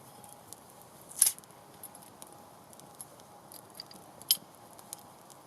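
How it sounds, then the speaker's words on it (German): A beer bottle is opened beside a campfire in the woods at dusk, giving two short, sharp pops with a brief hiss, one early and one later, over quiet forest ambience. "kann ich auf jeden Fall schon mal das Bier aufmachen"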